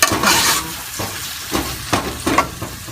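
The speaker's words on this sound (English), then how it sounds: "Then I'm going to add, for the heat, I'm going to add the jalapenos." Jalapenos dropped into a sizzling pot of seafood soup, a loud broadband sizzle flaring up at the start, then several short sharp bursts of frying and stirring scattered through the rest, close and without talk.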